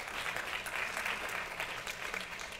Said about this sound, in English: That's when you know you're good, when you get applause